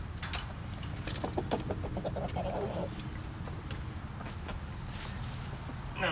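Chickens cluck in short bursts close by, with quick choppy calls over a steady low background hum and faint rustling.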